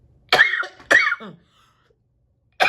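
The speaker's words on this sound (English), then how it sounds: "I hadn't coughed all day, and there it goes." Three harsh coughs, close and loud: two in quick succession, a pause, then a third starting again.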